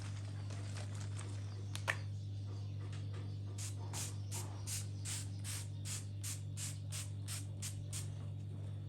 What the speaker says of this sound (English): I'm going to be using my Kiss Beauty setting spray.